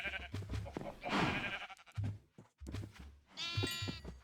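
Sheep in Minecraft bleating several times in short wavering bursts among other game noises, close and fairly loud, no voices.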